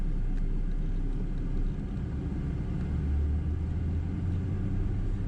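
A worn, shaky 1993 Mercury Cougar cruising at 50 mph gives a constant low road rumble and engine drone inside the cabin, steady for the whole stretch with no talk.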